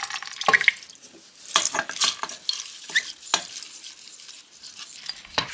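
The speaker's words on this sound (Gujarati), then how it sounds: "આપણે આપણી દાળને બોઇલ કરી લઈએ।" Dal lentils in a pot for khichdi, with scrapes of a spoon and clinks against the metal pot over a soft bubbling hiss, close and fairly quiet, with no voices.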